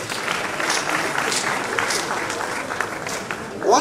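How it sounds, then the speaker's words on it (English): An audience applauding in a lecture hall at a science and technology talk, dense sustained clapping from a crowd at fairly close range, fading slightly before a brief swell at the end. "Please, a round of applause again."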